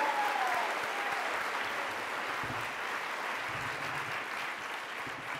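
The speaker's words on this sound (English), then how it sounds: "Please give yourselves another round of applause." Graduation audience applause fills the hall as a dense, sustained roar of many hands clapping, holding steady and fading only slightly over several seconds.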